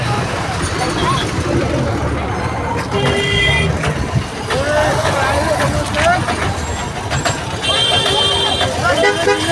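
A red MSRTC state transport bus pulls in amid a busy pilgrimage fair, its engine rumbling under dense crowd chatter and voices, with bright horn toots sounding now and then.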